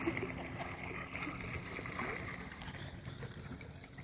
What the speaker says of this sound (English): We love the waterfalls.